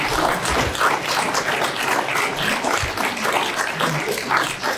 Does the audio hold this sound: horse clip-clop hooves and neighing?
no